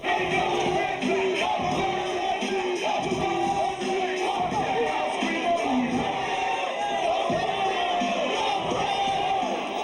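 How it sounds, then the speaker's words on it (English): A crowd at a freestyle rap battle chants and yells loudly and continuously over a rapper, many voices blending into a dense, rhythmic roar close by. "You can't hear nothing I'm saying because they're chanting over me"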